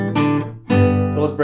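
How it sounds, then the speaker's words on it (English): A classic bluegrass guitar lick, the outro of a song, played as a short phrase of plucked acoustic notes in two quick bursts, close and clear. "The outro lick is really cool. It's a classic bluegrass lick here"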